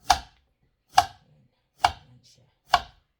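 A knife cuts raclette ingredients into round slices, four crisp, evenly spaced chops on a board, each a sharp close knock with a short tail and silence between.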